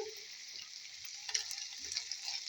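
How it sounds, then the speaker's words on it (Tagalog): Onion rings and tomatoes frying in a pan give off a soft, steady sizzle, with faint stirring clicks at close range. "Now we can put now this onion rings and tomatoes."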